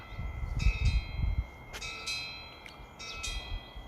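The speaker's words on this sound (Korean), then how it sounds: "풍경 소리가 들리면서 바람에 날리는 어, 백목단을 감상하시기 바랍니다" Faint metallic wind-chime tings ring out several times at a Buddhist temple on Cheonggyesan, with gusts of wind rumbling low in the background.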